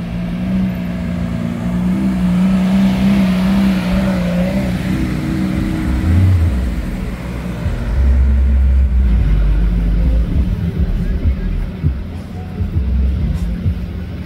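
Supercar convoy passing on a Cannes street, including a yellow Lamborghini SVJ and a Ferrari 812, with rumbling engines swelling and revving by over steady traffic noise and background voices.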